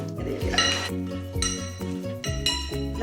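Fried anchovies, fried papad and dried chillies are tossed together in a metal vessel, producing repeated ringing clinks and scrapes in uneven bursts, close and clear with no talking.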